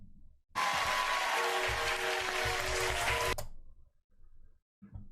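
A lecture audience breaks into loud, dense applause for about three seconds, which stops abruptly and leaves faint low rumbling noises.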